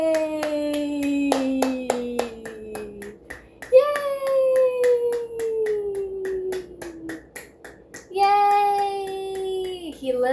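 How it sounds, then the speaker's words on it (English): A baby boy claps his hands in a string of quick light claps, close by, under sustained adult sing-song vocalizing and cheering. "He loves to clap his hands."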